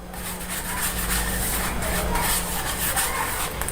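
Lemon and baking soda are scrubbed over a wooden rolling board and rolling pin, giving a close, steady rasping rub with no talk.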